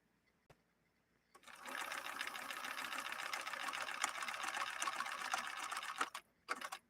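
A Bernina Record 930 Electronic sewing machine running a line of stitches, a fast continuous mechanical whir with rapid needle ticking for about five seconds, close and clear, ending with a few short bursts.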